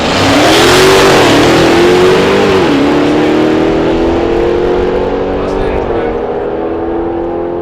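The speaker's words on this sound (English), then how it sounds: "the Hellcat Charger of Mitch Thom. Also ringing up a 10-second pass" A Dodge Hellcat Charger makes a 10-second drag strip pass at a drag racing event, its loud, close engine roaring steadily and climbing in pitch as it accelerates, with a voice talking over it.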